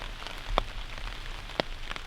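Rain falls steadily in Ohio woods, a soft continuous patter with a couple of sharper drops striking close by.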